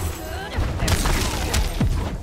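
Gunfire effects in a fighting video game match go off during a tournament top 8 losers bracket set, with booming shots and impacts under fast, continuous commentary.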